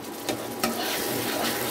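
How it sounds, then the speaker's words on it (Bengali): Ground cumin and turmeric fry in hot oil, giving a brief, close, steady sizzle with a couple of quick stirring scrapes. "এখন এই মশলাগুলোকে আমি খুব ভালো করে কিন্তু কষিয়ে নেব"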